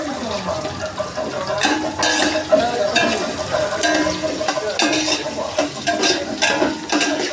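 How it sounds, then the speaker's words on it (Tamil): Green chilies frying in a pan with onions for chicken biryani made with zeera samba rice, a steady sizzle with stirring clatters and utensil scrapes throughout, fairly close and continuous with no talking. "பச்சை மிளகாய் ஆட் பண்ணுறோம்."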